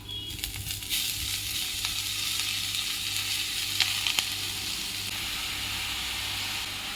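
Finely chopped sukkuti greens fry in a pan with a continuous broad sizzle and hiss, broken by a few faint clicks of stirring. A low steady hum sits underneath, and no one speaks.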